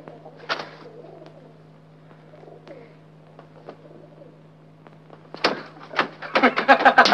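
Rooftop pigeons coo in soft bursts near the start and grow louder and busier toward the end, over a low steady hum, with a few faint knocks between calls.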